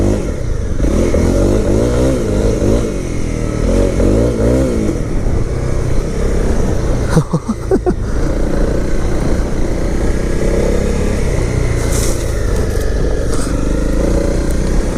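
A 2018 Honda CRF250L single-cylinder engine runs steadily and loud throughout, with rising and falling throttle revs and some clatter, heard up close with no talk.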